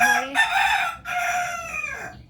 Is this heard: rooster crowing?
yes